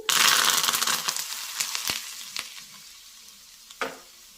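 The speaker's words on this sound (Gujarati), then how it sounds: "3 મોટા ચમચા જેટલું તેલ ગરમ કરી લઈએ અને એમાં 1 ચમચી જેટલું આખું જીરું ઉમેરી દઈએ." Whole cumin seeds and asafoetida dropped into hot oil for a chutney tempering burst into a loud sizzle that gradually fades, punctuated by a few sharp spoon taps against the pan.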